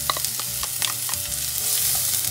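Finely chopped onions fry in oil in a pan with a close, steady sizzle. Light scraping and clicking from stirring recur through it, and no voices are heard.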